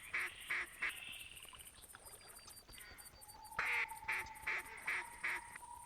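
A flock of ducks in the hunting video game theHunter Classic gives rhythmic quacking calls that pulse repeatedly, fairly faint, with a thin tonal whistle and a lower hum in between.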